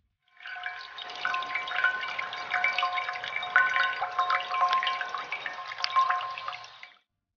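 An Archimedes screw lifts water almost vertically in an English forest, giving a continuous splashing and dripping that starts, holds steady for about six seconds, then stops.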